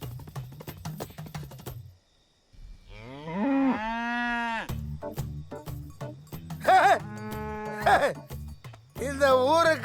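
Buffaloes moo in long, drawn-out calls across a Tamil village scene, with a clear loud low moo in the middle and more calls near the end, mixed with people talking before and between them.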